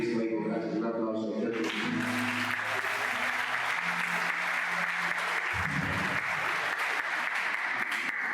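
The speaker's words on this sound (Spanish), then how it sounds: "Un aplauso." A church congregation at a Spanish-language service breaks into applause after the opening second, a broad steady clapping that continues to the end while a voice speaks over it.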